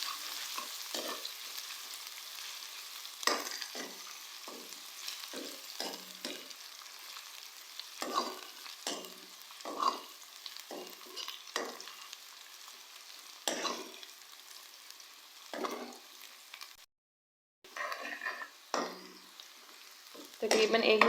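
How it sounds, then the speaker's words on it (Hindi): Onions frying with ginger garlic paste in a pan for masala gobi, a steady sizzle broken by repeated scraping stirs of a spoon, close and moderately loud throughout with a brief gap near the end. "1 मिनट तक हम लोग अदरक लहसुन के पेस्ट को प्याज के साथ फ्राई करेंगे।"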